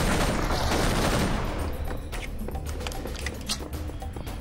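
Rapid rifle gunfire from the video game Serious Sam 3: BFE, a dense loud burst of shots at the start that thins into scattered cracks and rumble.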